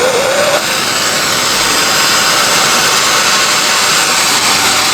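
A roaring oxyacetylene torch flame burns steadily at a bench vise, heating a steel bar for custom tail light guards; the broadband hiss holds loud and unbroken throughout, with no voices.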